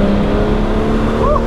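A Series 1 Jaguar E-Type accelerates hard in second gear from about 30 mph, a loud, close engine roar heard briefly from inside the car.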